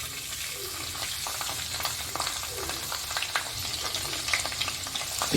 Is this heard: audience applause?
no